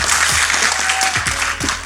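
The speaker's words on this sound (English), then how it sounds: "give her a round of applause" Audience applause at a podcast recording, steady clapping from a crowd that fills the whole moment without voices over it.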